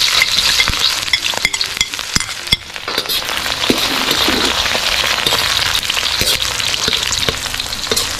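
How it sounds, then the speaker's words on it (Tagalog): Garlic and onion sautéing in a pan: a loud, continuous close sizzle of frying, punctuated by repeated metallic clinks and scrapes of a utensil stirring against the pan. "Pagkasabay na natin ang bawang at sibuyas."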